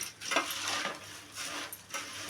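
Puffed rice tossed with seasoning and stir-fried in a pan gives a soft, dry, rustling scrape in a few uneven sweeps, with a faint sizzle underneath and no voices.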